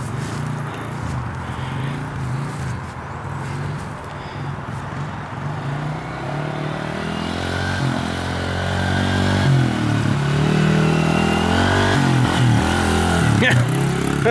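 A motorcycle engine revs and drones up close as the rider tries a wheelie, the pitch climbing toward the end, with people talking over it.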